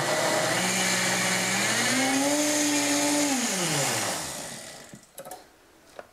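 A blender whirs loudly and steadily while mixing yogurt with probiotics, its motor pitch rising and dipping before winding down, followed by a few clattering knocks.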